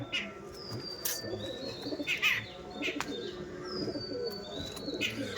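Andhra Fulshira pigeons coo in a loft, with soft repeated calls, a few sharp chirps and a brief burst of wing flapping over a steady low background.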